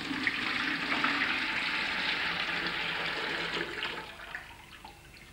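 Cooled, heavily sugared tea poured through a strainer, a steady splashing liquid flow that stays fairly loud and even before tapering off near the end, with no voices.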